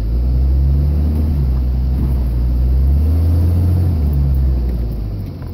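A 3rd-gen Cummins diesel truck with a 48RE automatic transmission in limp mode, heard from inside as a loud, steady low rumble of the engine and road, rising and falling slightly while accelerating and driving.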